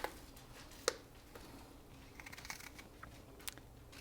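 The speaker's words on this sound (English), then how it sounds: "Cut that stem part out of there." A knife cutting a large onion into big chunks for baked potato soup, a few crisp chops and taps scattered over a quiet background, close and fairly soft.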